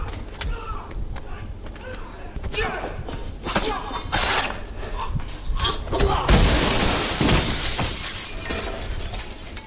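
A man is thrown through a glass pane in John Wick 3. The glass shatters in several loud crashing bursts mixed with thuds and whooshes, while movie dialogue and a reacting viewer's voice come and go.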